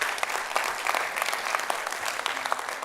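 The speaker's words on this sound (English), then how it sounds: "Give a round of applause if you like what you've seen so far." A conference keynote audience applauds steadily, a dense wash of many hands clapping at moderate loudness. The applause runs continuously with no talk over it.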